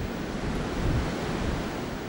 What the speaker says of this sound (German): 30 Zentimeter Neuschnee und Böen bis Windstärke 8.